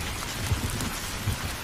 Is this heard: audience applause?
no